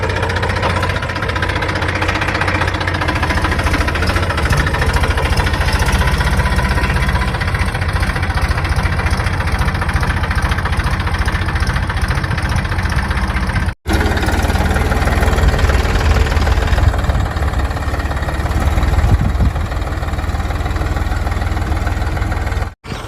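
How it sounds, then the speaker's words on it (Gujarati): A steady, loud tractor engine chugs continuously with a low, knocking rumble in a groundnut field, close and unbroken apart from two brief dropouts. "ટ્રેક્ટર ખેતરમાં આવ્યું આપણે ઓર કાઢવા માટે"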